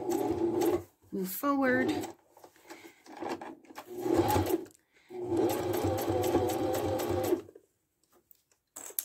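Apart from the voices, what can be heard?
sewing machine stitching fabric for kitchen scarf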